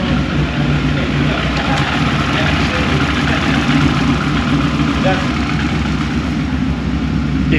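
A TVR sports car idling with its exhaust running rich: a loud, steady, deep engine burble that holds without revving, close by, with a voice talking over it.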